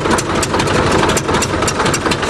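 A bulldozer engine idles close by, a steady loud diesel rumble with rattling texture that runs unbroken throughout.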